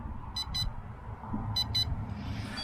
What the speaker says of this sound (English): I'm going to turn off the controller because all that beeping is going to drive us nuts